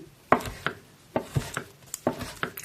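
Bread chopped with a knife into small crouton cubes: a series of crisp, close thuds on a board, seven or eight strikes in an irregular rhythm.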